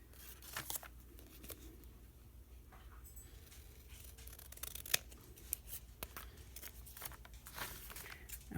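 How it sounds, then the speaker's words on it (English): Scissors snip through paper pieces stuck together with wet glue in a quiet indoor craft session, a series of close, soft irregular cuts and rustles with no talk. "we're just going to go in and just cut them out like this"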